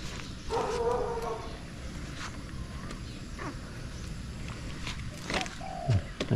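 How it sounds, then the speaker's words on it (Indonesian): On a morning walk, a dog barks a few times at a distance, the sharp calls coming sporadically while people talk nearby. "Ada anjing. Ada bunyi anjing."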